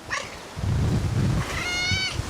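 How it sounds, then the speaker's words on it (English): A cat gives a drawn-out meow, then a second higher, wavering cry, both close and clear with no talking. "What are you meowing at?"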